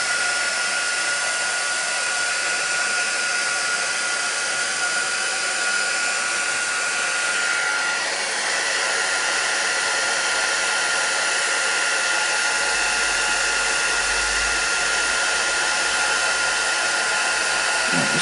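A heat tool runs continuously on a paper-crafting project, a steady, close whooshing hum like a small hair dryer that holds level throughout with no talking.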